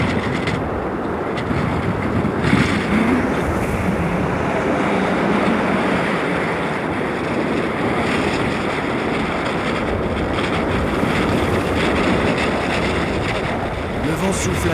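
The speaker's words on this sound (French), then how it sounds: "Le vent souffle à 100 km/h." Strong wind gusting at around 100 km/h in an extreme Greenland setting gives a loud, continuous roaring rush that runs steadily through the whole stretch with no breaks.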